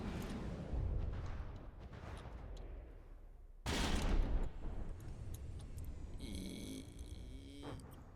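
Missiles launching in a vehicle combat game, a rumbling stream of whooshing blasts with a sharp loud burst midway, followed by a ringing mechanical whine and clanks, no talk.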